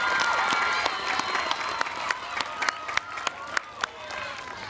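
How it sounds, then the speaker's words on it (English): A school gathering applauds an elementary school principal, with crowd clapping and cheering under voices and several sharp, distinct claps standing out near the end. "give Principal Elliott a huge round of applause for her leadership"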